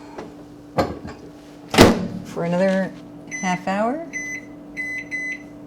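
A microwave oven door thuds shut on challah dough set inside to proof, followed by a run of sharp electronic beeps as buttons are pressed; a voice talks briefly in between.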